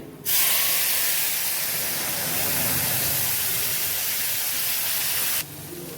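Fenugreek seeds hit hot oil for a tempering and set off a sudden loud, close hissing sizzle that holds steady for about five seconds and then cuts off sharply, with no talking.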